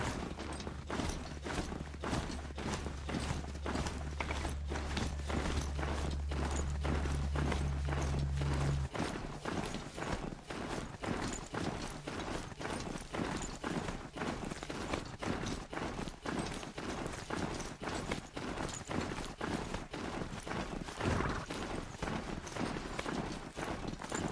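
Horse hooves clip-clop in a steady, quick rhythm as the mount trots along in Horizon Zero Dawn: The Frozen Wilds, fairly faint and continuous, with a low droning hum beneath the first stretch.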